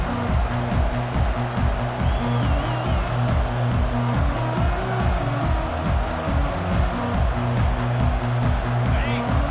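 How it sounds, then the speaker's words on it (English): A stadium crowd in the video game EA Sports College Football 25 gives a loud, sustained roar, with a rhythmic backing pulse underneath and talk over it. "This crowd bringing an ear-splitting welcome to their visitors."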